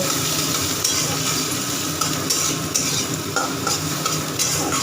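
Onion and garlic frying with kalonji and dried red chilli in a pan give a steady, close sizzle with scraping stir strokes and light utensil clinks throughout.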